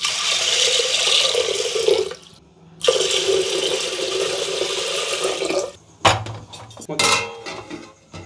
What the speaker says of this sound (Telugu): ఇప్పుడు సభ్యంలో నీళ్లు పోసి ఉడకబెట్టుకుందాం